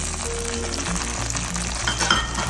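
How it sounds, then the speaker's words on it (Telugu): Onion and carrot fry in a pan until golden, for uggani, with a constant, even sizzle, close and loud, with a low hum underneath. "ఆనియన్, క్యారెట్ కొంచెం గోల్డ్ కలర్ వచ్చే వరకు ఫ్రై చేసుకున్నాక"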